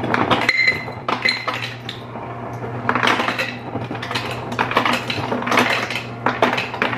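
Glasses and dishes clink and rattle close by before ginger ale is poured and drunk, a run of light sharp knocks and chinks over a low steady hum, no talking.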